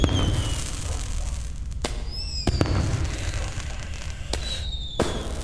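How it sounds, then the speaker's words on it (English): Fireworks going off continuously with several sharp cracks and whistling rising launches over a dense, rumbling crackle, loud and close, with no talking. "I pretty much like all fireworks."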